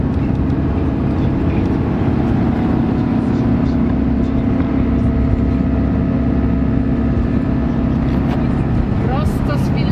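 Steady, loud road rumble from a camper van driving on a Czech road, a broad continuous drone of engine and tyre noise heard from inside the cabin without a break.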